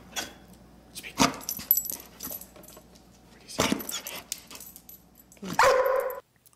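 A dog barking nearby in a few loud, separate bursts with pauses between, and a jangling, metallic rattle alongside.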